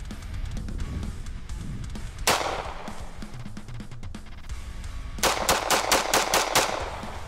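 A pistol fired with a deliberately weak, barely-there grip at a pistol and carbine training course, giving a few sharp shots followed by a rapid string of close, loud reports over a steady outdoor background.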